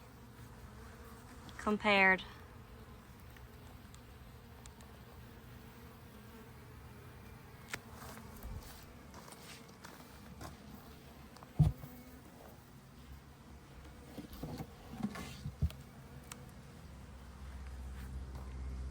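Honeybees buzz at a hive with little coming and going after winter. The hum is soft and steady beneath hiss and faint background noise, with a brief louder burst early on and occasional speech.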